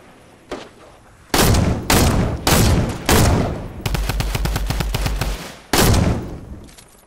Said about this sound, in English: Damn. I missed every single shot.